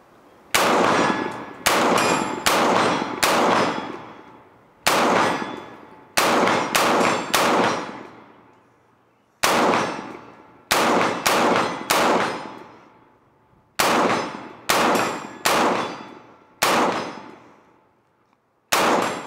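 Rifle shots fired from a bench with a 30-round magazine at steel targets 75 yards away, loud sharp cracks in quick clusters of two to four, each ringing with a metallic clang, separated by brief pauses.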